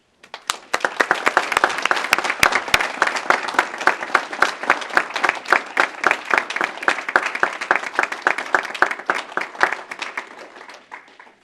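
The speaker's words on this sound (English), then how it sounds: "I'd like to give a round of applause, please" Audience applause at a town board meeting: a dense, steady run of many hands clapping indoors, sustained for about ten seconds before tapering off at the end.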